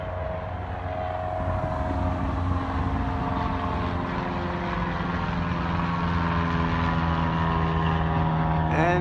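Propeller airplane passing over Zamperini Field airport in Torrance, California: a steady, loud engine drone with a tonal hum that holds throughout and swells slightly near the end, with no talking.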